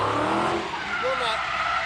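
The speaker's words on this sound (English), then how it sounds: "The beautiful burnt rubber of 797 horsepower going around the track" A 797-horsepower Dodge muscle car burns rubber on a track, a steady loud roar of engine and tire squeal with a brief rising screech partway through, while people talk over it.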